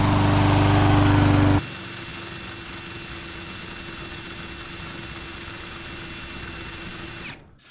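A lawn mower engine roars loudly at first while mowing grass for the first time, then settles into a steadier, quieter drone for several seconds before cutting off at the end.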